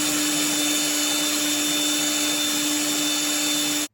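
Small bench drill spinning steadily as it turns a steam regulator part for an Accucraft Ruby live steam locomotive, a close, loud, even whine with a constant hum, cutting off abruptly at the end.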